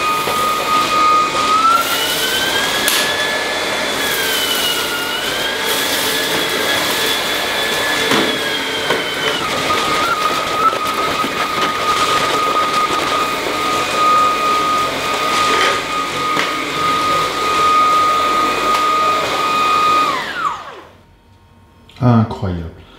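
A Dreame T30 cordless stick vacuum with carbon-fibre tube, running in automatic mode, sucks up coffee grounds and rice: a loud, steady whine with rising and falling motor pitch for about twenty seconds before cutting off, followed by brief clatter.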